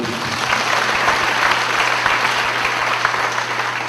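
A church congregation at an evening service of a national ministers' seminary claps steadily for several seconds, sustained and fairly close, with a low hum underneath.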